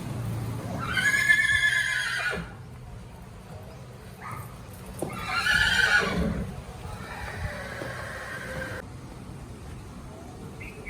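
A mare neighs loudly twice, each a long shaky whinny with a pause between, with faint hoof clatter and background noise.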